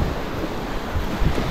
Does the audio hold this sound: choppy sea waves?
yes